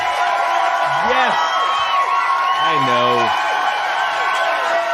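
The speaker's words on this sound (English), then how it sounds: "every week you clap like that" A studio audience at a Myrtle Beach, South Carolina talk show claps and cheers in a steady wash of applause with whoops, while a host's voice carries over it.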